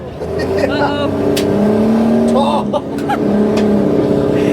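A Corvair-engined Morris car hums steadily at low speed, close and continuous, while people talk over it.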